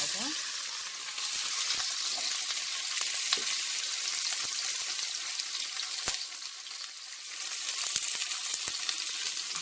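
Bell pepper frying in a pan, a steady close hiss and crackle that runs throughout, with occasional sharp pops and utensil knocks.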